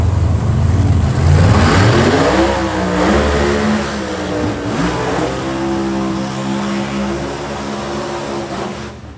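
Two Camaro pro modified drag cars racing at Darana Dragway, engines howling loud and close as they launch and rev upward through rising gear changes, then fading slightly into a sustained roar.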